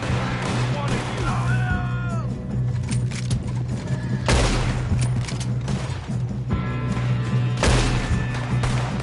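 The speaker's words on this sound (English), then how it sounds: "Good shooting, kid." A shootout in the video game Red Dead Redemption 2, with repeated loud gunshots and booming bursts ringing out over a constant droning background, and shouted voices between the shots.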